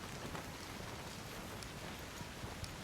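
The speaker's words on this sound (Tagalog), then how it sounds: "Ay, grabe. Umuulan na." Rain falls steadily outdoors near a home garage, a soft, even hiss of drops that is faint and continuous, with no voices over it.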